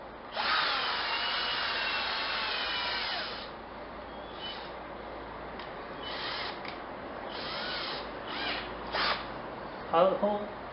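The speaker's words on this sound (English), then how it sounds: "we're going to drill a hole that will be big enough to fit the jack" A power drill whines in several short bursts as it bores a hole for the jack in an acoustic guitar body, with a long first run followed by brief stop-start pulses, close and clear.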